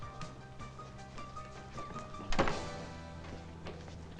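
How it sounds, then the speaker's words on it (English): A door is pushed shut with a single solid thunk partway through, set against a quiet, hissy background with faint room noise before and after. "I shut the door behind us."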